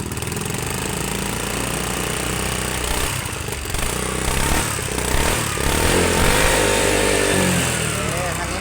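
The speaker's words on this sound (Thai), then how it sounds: "ไหนลองเบิ้ลหน่อย" A used Honda Click 110i scooter with a slight exhaust leak, its engine revving close and loud, a raspy continuous buzz that swells and dips, while someone talks over it.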